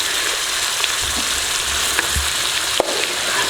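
Chicken pieces fry in a pan for a Big Boss chicken fry, giving a steady close sizzle throughout, with a few soft scrapes and one sharp clack of a spoon being stirred through.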